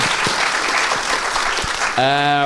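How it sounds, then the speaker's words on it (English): A live theatre audience at a Halloween special show gives a loud, dense round of applause for two seconds, then a voice takes over as the clapping stops. "Round of applause for Audition"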